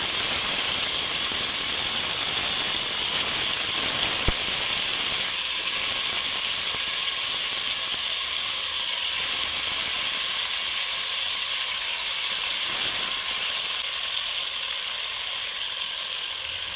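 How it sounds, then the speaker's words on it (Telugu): Chicken pieces go into a hot pan of oil and whole spices for a Hyderabadi dum biryani, setting off a loud, steady sizzling hiss that carries on close by with no talking. "ఇప్పుడు చికెన్ వేసుకుందామండి"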